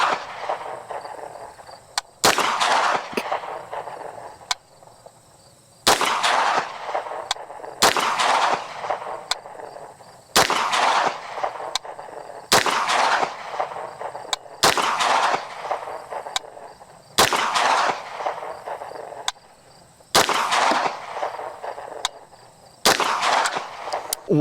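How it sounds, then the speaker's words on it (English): Ten pistol shots from a BC9 Bufferless with a 5-inch barrel, fired one at a time at a steady pace, each a loud, sharp crack with a short ringing tail and brief quiet between rounds. "10 rounds out of the BC9 Bufferless with a 5-inch barrel."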